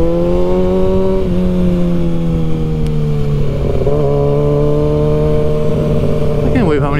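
A Kawasaki ZX-6R sport motorcycle rides through a city downtown near a container pier, its engine droning loudly and steadily with shifts in pitch as it changes gear, and a rider's voice faintly underneath.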